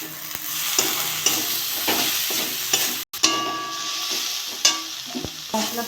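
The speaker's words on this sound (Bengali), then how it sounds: "মশলাটা কষে নেবো" Spice masala with tomato, cumin powder, Kashmiri chili and salt being stirred and sautéed in a pan, a steady close sizzle broken by repeated spatula scrapes and a brief cut midway, with no talking.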